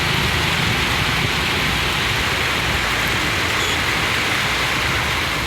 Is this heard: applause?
no